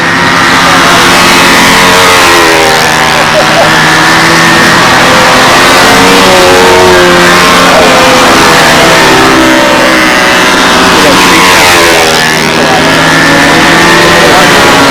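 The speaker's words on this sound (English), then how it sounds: "I'm surprised how well the motor runs in a profile" A small glow-style engine on a Windy B-25 profile model airplane running hard, a loud, high-pitched buzzing drone holding steady with slight pitch wavering throughout.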